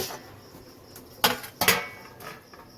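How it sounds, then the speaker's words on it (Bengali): Lid of a cooking pot of chole being lifted off, two sharp metallic clanks close together in the middle, with faint kitchen clatter before and after. "ঢাকনাটা খুলে দেখে নেব।"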